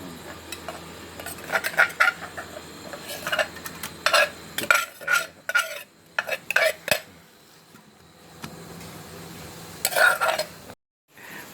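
Metal utensil scraping and clinking against a pot in irregular bursts as ingredients for a Thai beef om stew are roasted in oil until fragrant, with a low sizzle underneath and brief pauses between stirs.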